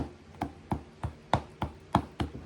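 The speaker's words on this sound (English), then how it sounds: "So, I'm going to just take them and cut them up." A knife chops pimentos and other vegetables on a board in about eight sharp, evenly spaced strokes, close and crisp, with no voices.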